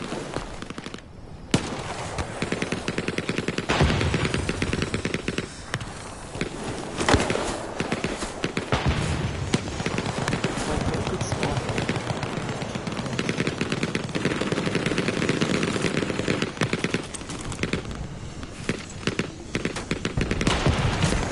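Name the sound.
light machine gun firing in video game Hell Let Loose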